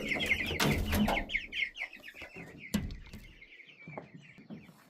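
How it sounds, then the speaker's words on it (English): Meat chickens cluck close by amid a rapid series of chirping calls, with some clatter and rustling, steady and fairly loud throughout. "I gotta feed these chickens over here."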